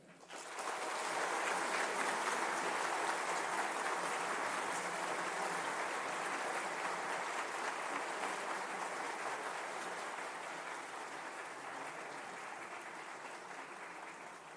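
Sustained audience applause at a speech event with Iran's state broadcaster staff, a dense even clatter of many hands that begins abruptly, holds steady, then tapers slightly toward the end.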